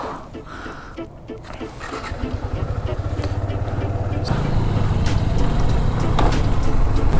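A Yamaha FZ motorcycle engine, already warmed up, revs up and settles into a steady, rising drone as the bike pulls away, loud and close throughout.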